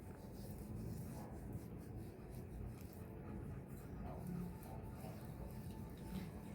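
Hands massage a homemade coconut oil and sugar scrub over skin in slow circles, giving a soft, steady, grainy rubbing that stays quiet and close throughout.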